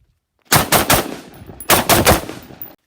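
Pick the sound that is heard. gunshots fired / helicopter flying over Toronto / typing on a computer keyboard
gunshots fired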